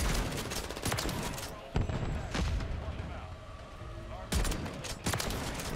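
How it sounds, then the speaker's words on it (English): Shotgun fire in Modern Warfare III, a Reclaimer 18 build, with several loud close blasts standing out over continuous game noise and background gunfire. "I love this shotgun."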